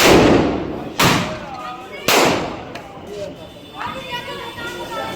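Diwali firecracker bombs going off outdoors at a family celebration, three sharp loud bangs about a second apart, each followed by a brief ringing decay, with people talking and shouting in the background.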